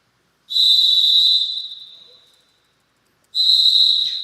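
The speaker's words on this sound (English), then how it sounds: "We got a whistle here." A referee's whistle at a junior varsity girls' volleyball match gives two loud, shrill blasts, the first long and trailing off, the second starting after a brief silence.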